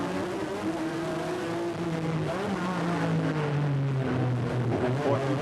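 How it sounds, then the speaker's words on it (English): A Lola Ford sports racer roars past during a Grand-Am street race at Trois-Rivieres, its loud engine note sliding downward in pitch as it passes, with continuous race-car noise throughout. "So Scott Schubert go by in that Lola Ford"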